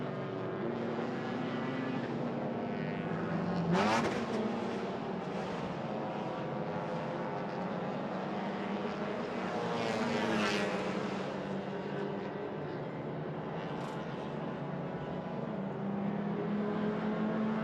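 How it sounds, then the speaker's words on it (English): SP2-class race cars roar past on a circuit during a 300 km endurance race, engines rising and falling as they pass, with a steady rumble in between and no talking. "So as we look at the SP2 cars coming through"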